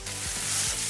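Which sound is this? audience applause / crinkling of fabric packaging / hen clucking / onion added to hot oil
onion added to hot oil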